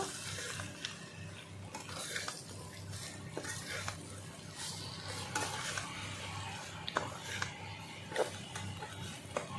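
Potato and ridge gourd pieces sautéing in a pan, a soft continuous sizzle with scattered stirring clinks and scrapes, fairly quiet and without speech.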